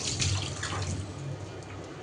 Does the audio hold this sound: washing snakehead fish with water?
yes